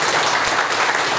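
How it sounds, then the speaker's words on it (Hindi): Seminar audience in a hall giving a short, loud burst of steady clapping, dense and continuous for about a second. "एक बार जोरदार ताली सर बजाइए।"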